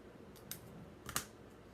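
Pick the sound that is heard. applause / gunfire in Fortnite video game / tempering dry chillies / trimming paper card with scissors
trimming paper card with scissors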